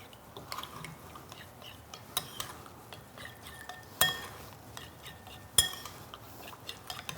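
Pork belly seasoning mixed with lemon juice in a bowl, heard as soft scraping and a few sharp clinks of a utensil against the bowl at irregular intervals, quiet and close with no voices.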